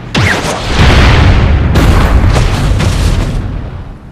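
Warships fire artillery in the video game Asura's Wrath, heavy booming blasts and rolling explosions layered densely over one another, loud and close with no speech.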